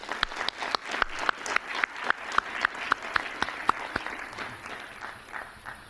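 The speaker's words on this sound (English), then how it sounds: "So how about we give our families a big round of applause for all their help, please." Applause from an audience at a high school National Honor Society induction ceremony, heard as distinct sharp claps from a smallish crowd that are fairly close, keep up a steady patter, and then fade out toward the end.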